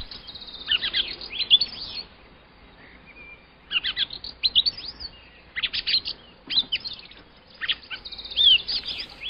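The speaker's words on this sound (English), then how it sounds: "What we are listening to here is the sound of an eastern yellow robin" An eastern yellow robin sings alone in repeated bursts of bright, rising whistles and chirps, clear and fairly close, separated by short quiet pauses.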